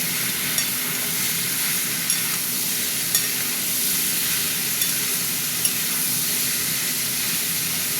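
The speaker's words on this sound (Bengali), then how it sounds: "টমেটোটা একটু ভাজা ভাজা হবে" Tomato frying in a pan that already holds fried potatoes gives a steady broad sizzle and hiss, with faint occasional clicks from stirring.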